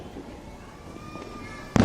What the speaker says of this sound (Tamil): அதனால்தான் ஆங்காங்கே அந்த வெடி சத்தம் காதில் வீழ்கிறது